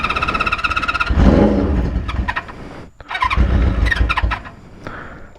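A 1974 Honda CB400F motorcycle engine cranks and catches, with two bursts of rough mechanical churning and rattle separated by a brief lull, recorded close up with no talking.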